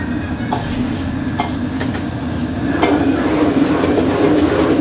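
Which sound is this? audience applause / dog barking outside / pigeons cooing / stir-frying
stir-frying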